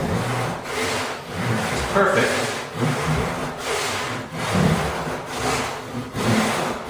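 Rhythmic rasping strokes of a crosscut hand saw cutting through wood on a bench hook, steady back-and-forth pulses close by, with a brief spoken word.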